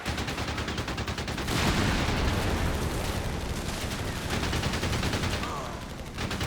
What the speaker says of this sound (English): we're going to have the pintle and the coaxial shooting at this, the hull gun shooting at another